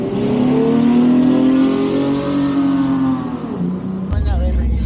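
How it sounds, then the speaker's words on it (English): Cars revving hard at a car meet, engines rising and dropping as they shift into second gear with tire skids, a loud continuous roar close by, with people talking over it. "Why did they all skid right there? You hear that? Because they're shifting to like second gear."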